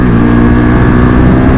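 A KTM 1290 Super Duke R motorcycle engine drones loud and close with a steady, continuous roar under acceleration, no voices over it.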